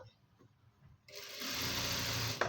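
A sewing machine stitching fabric starts up after a second of quiet, then runs as a steady, close whirring hum to the end.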